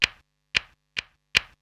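A crisp, dry snare drum sample, the first of two layered snares in a lofi beat, hits four times in an even pattern, each short snappy crack decaying quickly into silence, with no talk.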